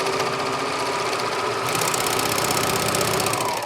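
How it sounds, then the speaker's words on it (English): Serger sewing machine running off the end of a jeans seam to chain the thread, a loud, fast, continuous mechanical whir and rapid clatter close up, no talking. "Unlike a straight stitch machine, sergers chain the thread off the end of a seam."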